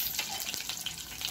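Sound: curry leaves and green chilies added to hot oil

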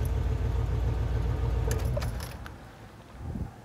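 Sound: 1981 Turbo Trans Am engine idling

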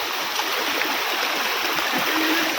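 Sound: water flowing along a footpath at Korigad fort

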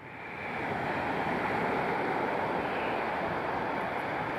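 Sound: seaside waves on the shore

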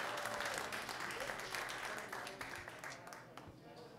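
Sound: audience applause at a live concert

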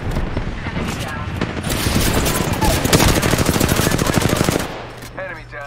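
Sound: gunfire in a shooter video game

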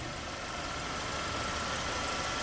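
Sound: 2010 Mercedes-Benz C200 CGI engine idling

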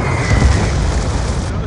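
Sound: Hellstorm missile explosion in Black Ops 2 video game

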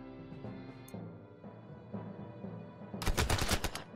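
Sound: single gunshot in a video game (Warsaw)

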